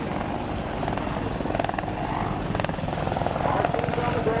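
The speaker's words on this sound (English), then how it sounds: "C-130J Hercules, produced from the Rhode Island Air National Guard's" A C-130J Hercules from the Rhode Island Air National Guard's 143rd Airlift Wing flies at an air show, a continuous loud propeller-engine roar with a few sharp crackles over it.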